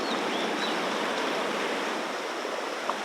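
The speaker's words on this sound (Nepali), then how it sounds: "डेन्जर रहेछ खोला" River stream in Syankhudi village, Nepal, being crossed on foot: a steady, broadband rush of flowing water, fairly close and continuous, with no voices.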